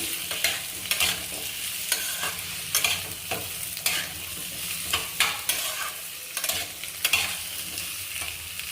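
Eggplant and young pointed gourd from the garden fry in a pan, with a steady sizzle broken by repeated scraping stirs close by.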